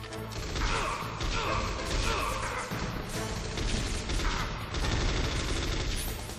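Rapid gunfire from the PlayStation game Metal Gear Solid, a dense, continuous fusillade of shots and clattering mechanisms filling the whole stretch at steady loudness, with brief voice traces mixed in.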